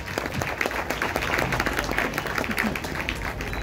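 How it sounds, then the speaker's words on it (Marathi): An audience claps for performers at a Marathi stage program, dense sustained applause from a crowd nearby, steady throughout with a faint voice beneath. "या कलाकारांसाठी जोरदार टाळ्या होऊ द्या."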